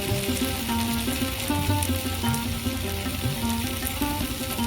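Spices fry in a pan for vegetarian ghugni, giving a steady, close sizzle with soft stirring scrapes and no talking.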